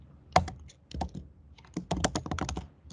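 Computer keyboard keys clack in a short irregular burst of taps, with a brief pause and then a quicker flurry, close and crisp with no voices.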